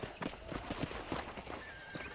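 Hooves clip-clop in a quick irregular rhythm with a short horse whinny partway through, fairly close, in the video game Red Dead Redemption.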